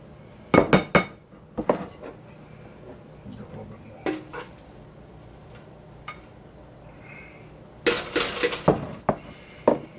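A spoon clanks and scrapes against the sides of a pot of blackened chicken and sausage jambalaya, giving a few sharp metallic knocks and scrapes spread out over quiet stretches, with a person talking in between.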